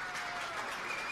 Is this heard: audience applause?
yes